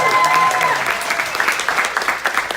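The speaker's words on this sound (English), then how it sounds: "Mr. Manny Lopez, a round of applause." An audience at a motivational event applauds its host, a dense, loud burst of clapping close by with a brief tone under the start, fading slightly as it continues.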